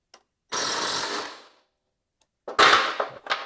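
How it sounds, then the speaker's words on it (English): Impact gun removing a mower blade from a Cub Cadet LTX1046 mower deck, two loud close rattling bursts with a pause between and a short final rattle. "If you have an impact gun, you can just take it off with that."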